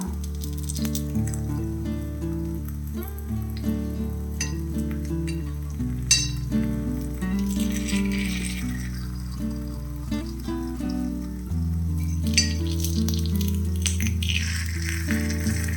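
Oats sweet paniyaram fry in ghee with a steady, close sizzle throughout, broken by small scraping and tapping sounds as the pieces are turned, over faint tonal background music.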